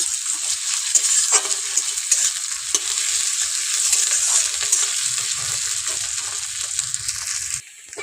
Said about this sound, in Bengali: দিয়ে খুব ভালো করে মিক্স করে নেব, মশলাটাকে একটু ভেজে নেব।